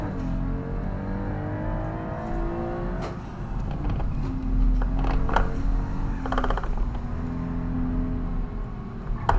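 A rally car engine in a video game drones and revs, the pitch rising and falling through gear changes, loud and close, with clicks and mechanical clatter over it.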